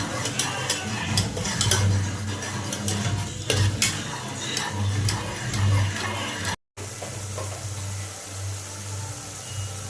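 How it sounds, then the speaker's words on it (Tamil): A spoon scrapes and stirs through thick lung curry in a pot while it bubbles and simmers. The steady scraping strokes repeat over a constant sizzling background, with one brief dropout partway through. "நல்லா கொதிக்கிறப்ப அடி பிடிக்காமல் இருக்க 2 கிண்டு அப்பப்போ கிண்டி விட்ருங்க"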